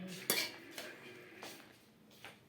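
Metal clanks and scrapes as a large pot of chicken biryani is handled, giving about four sharp separate knocks with quiet gaps between them.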